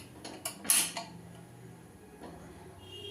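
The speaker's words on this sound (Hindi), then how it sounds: "अब कुकर में क्या करेंगे, हम इस तरीके से ढक्कन लगा देंगे" A metal pressure cooker lid, with its whistle and rubber gasket removed, is set onto the cooker with a few sharp clanks and scrapes, close and brief, then quiet kitchen background.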